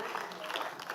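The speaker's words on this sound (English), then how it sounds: "Please clap for him." Audience at a tech and finance conference clapping, a brief dense burst of many hands at steady loudness, with no speech over it.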